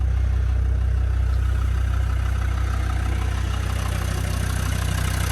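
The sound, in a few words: Land Rover Defender 90 TD5 diesel engine idling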